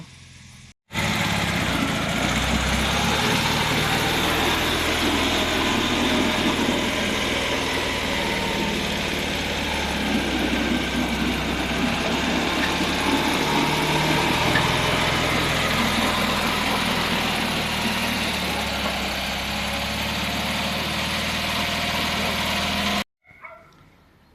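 A minitractor's engine idles steadily at a constant, fairly loud level after autumn ploughing of heavy soil, running alone for over twenty seconds before cutting off abruptly.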